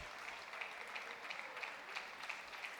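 Crowd applause at a table tennis semifinal at the Hong Kong Open, a steady wash of clapping with small bursts of cheering, moderately distant and continuous.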